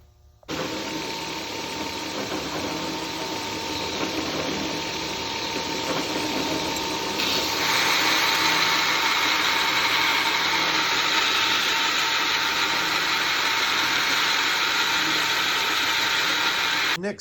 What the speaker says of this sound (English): We'll go out and grind these knives now